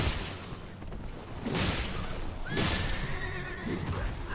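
A horse neighs loudly in Elden Ring, a rising whinny at mid-clip over steady game ambience and a few whooshing swells.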